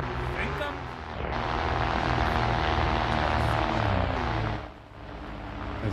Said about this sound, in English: Let the aircraft fly away.